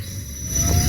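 A train passes on railroad tracks near a bridge in the Allegany Mountains, a steady low rumble of wheels on rail with a high squealing tone running throughout, growing slightly louder toward the end.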